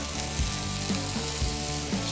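A burger patty of ground meat fries in a hot pan, a close, steady sizzle and crackle with faint bubbling pops, and no voices.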